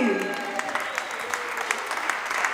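Audience applause for a band member at a concert in Bochum: a steady wash of clapping with a few sharper individual claps, moderately loud and fairly close, continuing without a break.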